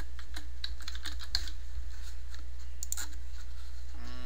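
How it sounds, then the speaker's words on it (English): Rapid irregular keystrokes on a computer keyboard while lettering a landscape services logo, close and crisp over a steady low hum, with short bursts and pauses between key presses. "Type out services."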